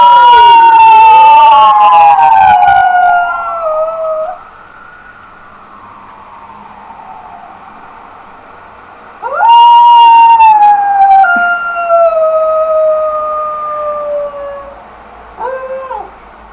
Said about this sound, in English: every time a fire truck would go by, she would be howling at the window